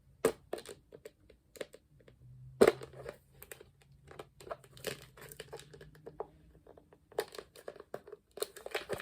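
Butterfly nail foil packet handled and crinkled open, with scattered crackling, tearing-like rustles and sharp plastic crunches in irregular bursts, close by; no talk.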